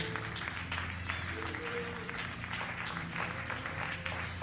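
A church congregation applauding during a pastor's sermon, a steady wash of clapping from many hands at moderate distance, with voices and a low tone under it.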